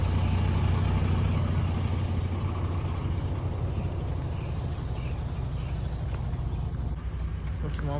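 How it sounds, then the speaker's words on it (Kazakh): A bus engine drones steadily from inside the moving vehicle, a constant low rumble with road noise throughout, and voices can be heard talking over it. "Тяжко автобус жүреді екен"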